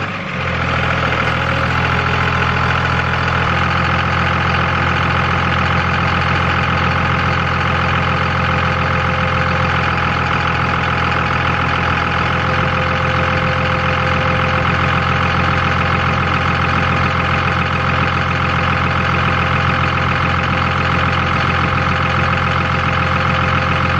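A car engine idles with a faulty serpentine belt tensioner, a loud, steady mechanical drone with a constant whine and rattle that holds unchanged for the full duration, close up, with no talking.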